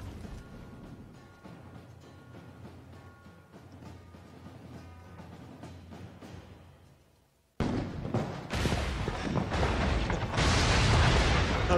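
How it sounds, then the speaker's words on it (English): A loud blast erupts in the Assassin's Creed Syndicate video game, cutting abruptly out of quieter mechanical game noise into a sustained, roaring, broadband burst of explosions that lasts several seconds. "You're gonna get caught in the explosion."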